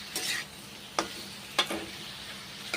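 Ivy gourd being sautéed with spices sizzles softly in a pan while a spatula makes four sharp, separate scraping strokes, close and clear with no voices.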